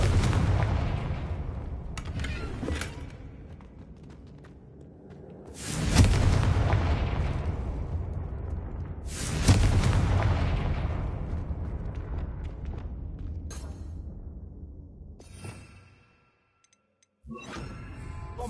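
Fiery spell blasts in the Hogwarts Legacy video game, a few heavy booming explosions each followed by a long rumbling decay, loud and close, with a brief quiet gap near the end.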